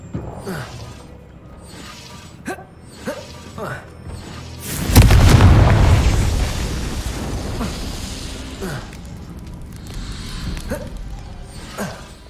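A fire spell from a Harry Potter video game, Confringo, goes off as a sudden loud blast that rumbles and fades over a couple of seconds, set among quieter in-game ambience and scattered small sounds before and after.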